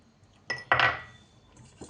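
A utensil clinks against a vessel while a buttermilk mixture is stirred. The clinks are quick and faint, with a couple of sharp knocks and a soft scrape, close by in a quiet room.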